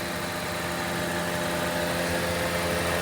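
A stock 2000 Honda car engine idles steadily at close range, a continuous even hum with a faint vibrating rumble and no voices.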